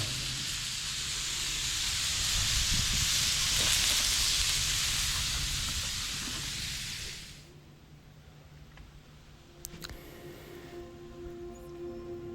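A campfire burns at an autumn campsite beside an XTerra, giving a steady close crackling hiss for several seconds before dropping to a quieter background with a few faint pops.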